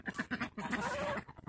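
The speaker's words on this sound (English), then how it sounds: "Here's my cranky geese, or as Dave likes to call, my stupid geese." Several geese on a farm call out in harsh, repeated honks and cackles, fairly close, with overlapping bursts and a longer squawking stretch in the middle.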